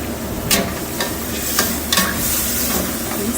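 Plant-based meats, long beans and fresh chilli stir-fried in oil in a vegetarian dish: a loud, steady sizzle close up, broken by scraping stirs of the spatula at irregular intervals.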